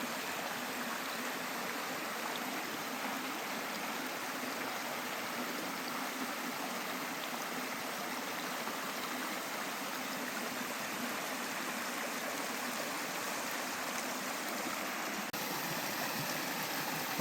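A small cascading waterfall spills into a clear pool, a steady broadband rush of water holding even and close throughout, with no voices.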